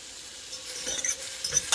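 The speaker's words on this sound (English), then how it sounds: "You hear a little sizzle." A soft, hissing sizzle of chicken cooking in a hot frying pan, with faint crackles building slightly toward the end.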